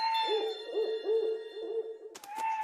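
An owl hooting: a run of tonal, wavering hoots repeated in quick succession close and clear, broken near the end by a brief clatter before a final hoot.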